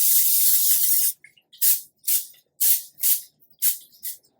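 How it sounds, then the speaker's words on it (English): A long spray hiss, then several short quick bursts from an aerosol can of cooking spray onto tortillas, close and crisp with brief silences between. "we are going to spray these down"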